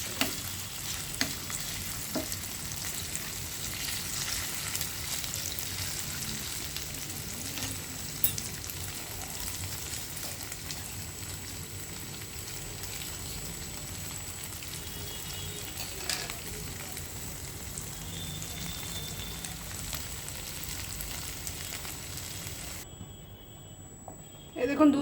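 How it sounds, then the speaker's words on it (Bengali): Paneer pieces simmering in milk in a pan for paneer payesh, giving a steady soft bubbling sizzle with occasional stirring scrapes, close and continuous throughout. "এই দেখুন দুধের মধ্যে পনিরগুলো কিরম ফুটছে"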